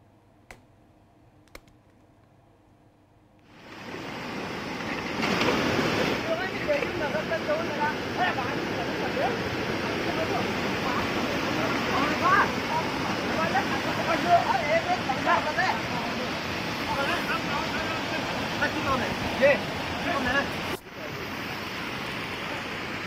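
Floodwater rushes through farm fields and past homes, a steady broadband roar of flowing water that begins abruptly after a few seconds of near-silence and continues loud and unbroken, with a brief dip near the end.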